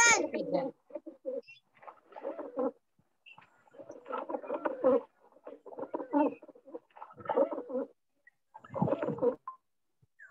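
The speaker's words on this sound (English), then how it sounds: "Sound of pigeon." A pigeon coos in soft, low, throaty phrases, repeating several times with short pauses between, close and clear against a quiet background.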